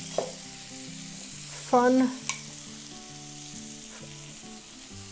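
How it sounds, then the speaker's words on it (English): Chopped onion hits melted butter in a pot, setting off a soft, steady sizzle with a brief louder burst and a sharp clink as it goes in, while light background music plays and a short spoken word comes through. "I'm gonna take about 2 tablespoons of butter and throw the onion onto it"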